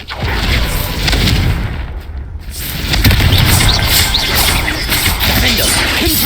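Repeated Confringo fire-blasting spells cast in Hogwarts Legacy, loud explosive booms and crashes filling the whole stretch with a brief lull midway, under constant game noise.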